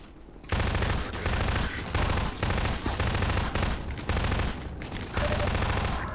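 Gunfire in Half-Life: after a quiet half second, loud, nearly continuous rapid shooting that stays dense and close, with a few brief dips in volume.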